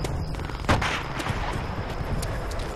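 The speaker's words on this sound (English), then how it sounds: "Enemy artillery!" Distant artillery and gunfire rumble in a Call of Duty: World at War match, a steady low boom-laden wash with one sharper blast near the start.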